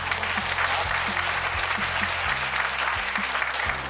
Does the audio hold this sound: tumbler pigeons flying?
no